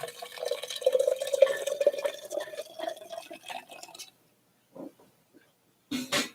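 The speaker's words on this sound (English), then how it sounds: "we're going to get our boiling water" Boiling water poured from a kettle over ground coffee, a steady gurgling pour with a rising pitch for about four seconds, then a few brief drips and splashes after a pause.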